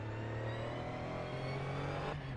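A racing car's engine in Assetto Corsa at Oulton Park, a steady droning hum with a slight rise in pitch, held throughout before a shift near the end.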